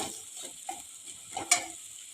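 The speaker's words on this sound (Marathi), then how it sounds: "कूड घालून एखाद मिनिटभर चांगली परतून घेऊया" Pumpkin with ground peanut powder being sautéed in a pan, a faint steady sizzle with a few soft spatula stirs and scrapes, quiet and close with no talk.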